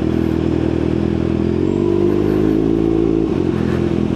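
A 2022 Kawasaki ZX6R 636 cc sport bike fitted with an open muffler runs close by, a loud, continuous engine rumble with a slight rise in the middle and no talking.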